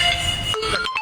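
A short burst of an electronic phone ringtone, with bright tones that shift in pitch, loud and close.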